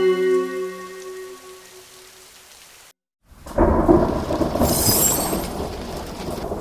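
Heavy rain pours down with a loud crack and rumble of thunder, following a fading sustained tone and a brief silence, no voices present.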